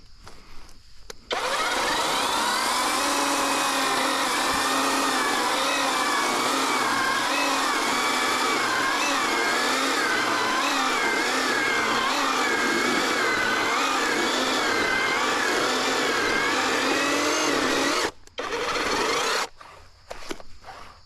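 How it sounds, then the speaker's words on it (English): A 21V battery-powered 16-inch electric chainsaw whines steadily while cutting through wood for a long stretch, starting abruptly, briefly pausing near the end, then resuming. "So the saw does cut really nice."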